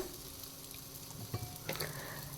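Potatoes fry slowly in oil with turmeric and salt, giving a soft, steady sizzle with a couple of brief clinks from stirring about midway. It is quiet, and no one speaks.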